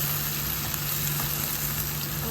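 Pieces of yam fry in a pan for a Kerala-style dry fry, giving a steady, close, dense sizzle that holds evenly throughout with no voices.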